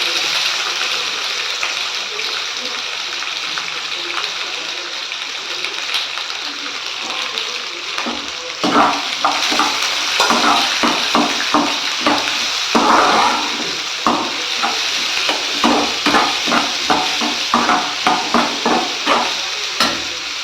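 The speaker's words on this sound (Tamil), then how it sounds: "ஆனியன் சேர்த்து நல்லா கலந்து விட்டுக்கோங்க" Chopped onions go into frying mustard seeds and urad dal for ragi urundai, bringing a hiss that turns into a run of repeated spoon scrapes and stirring clatter over a constant sizzle, with some talk in places.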